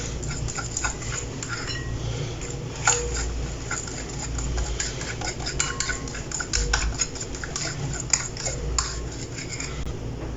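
Milk and milk-powder mixture for rasmalai being stirred in a bowl, repeated close clinks and scrapes of a spoon against the bowl over a low background rumble.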